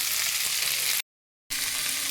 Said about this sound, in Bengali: এবারে আমি টমেটোটা দিয়ে দিচ্ছি, টমেটো কুচোটা দিয়ে দিলাম। টমেটোটা একটু নেড়ে নেব।